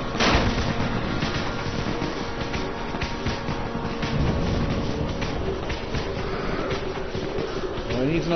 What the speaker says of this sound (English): Go on, go and get them firecrackers.